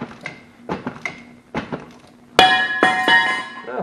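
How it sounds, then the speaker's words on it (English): An old brake caliper bracket from a 2004 Buick LeSabre comes off during a brake job and lands with a loud metallic clang that rings on. Several duller knocks and taps from working on the car come before it. "There went that old bracket off that caliper."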